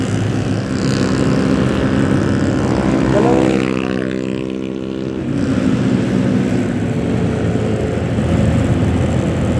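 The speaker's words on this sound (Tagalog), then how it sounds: "Bilis yung motor oh." A Honda Click 125 version 3 motor scooter rides fast, its engine droning loudly and continuously with the pitch rising and falling, along with steady wind and road noise.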